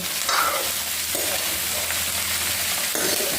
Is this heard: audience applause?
no